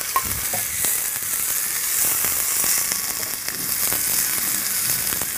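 Chopped onion pieces sizzle and fry in hot oil in a pan for mutton curry, a steady close hiss with scattered crackles and stirring scrapes throughout, no voices.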